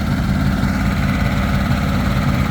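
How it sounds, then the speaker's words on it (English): A boat engine fitted in a Ford Bronco, running a Holley carburetor, idles high with a loud, steady low rumble and vibration, close and continuous. "The idle on it is very high. It's got a Holley carburetor, and he's having a hard time with the adjustment, trying to get it to idle down."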